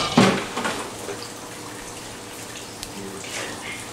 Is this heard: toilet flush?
yes